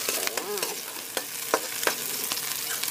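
Garlic frying in a pan for chicken curry, a close, bright sizzle broken by several sharp clacks and scrapes from stirring, with no one talking.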